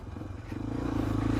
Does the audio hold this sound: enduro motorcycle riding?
yes